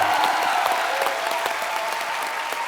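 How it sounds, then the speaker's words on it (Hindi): A studio audience at The Kapil Sharma Show breaks into loud, steady applause, a dense wash of clapping that holds evenly throughout. "एक बार सीआईडी की पूरी टीम के लिए जोरदार तालियां आ जाएं"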